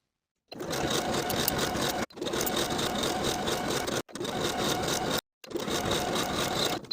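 A sewing machine stitches the front hood seam of a hoodie with a 3/8 inch seam allowance, running in four steady bursts separated by brief pauses, close and loud.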